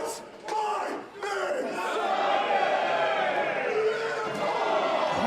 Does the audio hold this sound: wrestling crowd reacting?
yes